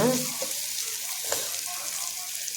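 Okra and egg stir-fry sizzling in a pan, a steady soft hiss with faint scraping as it is stirred, close and continuous for a few seconds with no talk.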